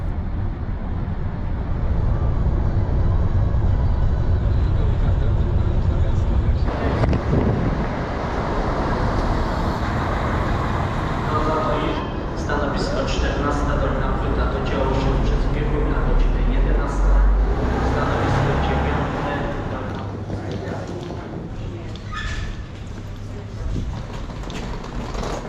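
A bus cruises along a highway on the way to Kraków with a steady close engine drone and road rumble, and faint rattles and mechanical clicks grow more noticeable midway.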